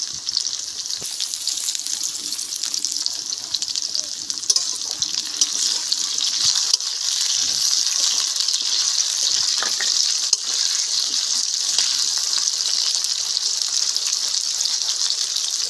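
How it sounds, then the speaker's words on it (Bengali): Steady, bright frying hiss of salted new potatoes in hot oil, continuous and close, with occasional soft pops and scrapes. "আলুগুলো ভাজা হয়ে গেছে"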